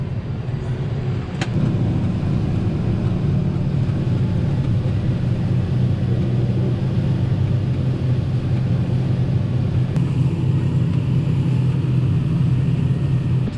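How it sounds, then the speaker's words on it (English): A harvest-time farm truck pulls up beside a running combine in an Iowa field, its engine rumble blending into the combine's steady low drone, which continues loud and unbroken throughout. "See, the truck just pulled up, so we'll be able to keep on going."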